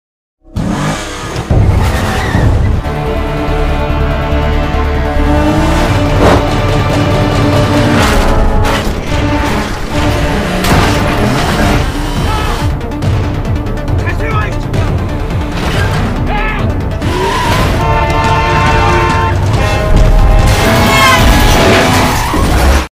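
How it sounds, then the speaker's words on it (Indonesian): A car chase and collision in a Korean gangster film: roaring engines, squealing tires and skids build over a tense music score, broken by loud crashing impacts, with voices heard among the action. "Pada akhirnya mobil mereka saling tabrakan"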